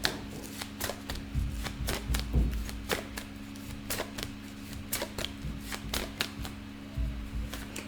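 Tarot cards are shuffled by hand in a close, steady run of crisp riffling flutters and light taps that repeat in quick bursts throughout.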